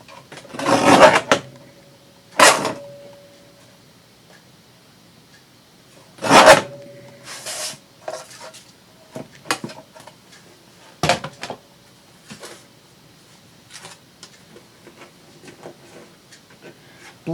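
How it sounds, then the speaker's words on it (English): A paper trimmer slices through paper in sharp, rasping bursts, a few loud strokes near the start followed by quieter, scattered scraping and handling clicks, close by with no talking. "the trimmer's just as loud to me as it is to you"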